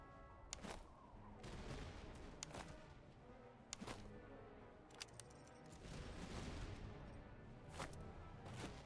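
Artillery fire in the Napoleonic-era battle game Master of Command, very faint and distant, with sharp cracks and booms scattered over a rumbling battlefield.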